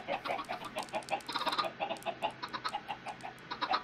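A blocky Minecraft-style game chicken clucks over and over in quick, choppy bursts, close and fairly loud, with no voices over the sound.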